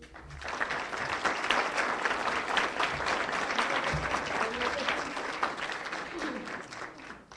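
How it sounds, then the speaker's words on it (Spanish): Audience applause for the panelists at a book presentation on church, independence and revolution, a steady, moderately loud clapping that builds and holds before a voice briefly emerges near the end. "Les damos un fuerte aplauso."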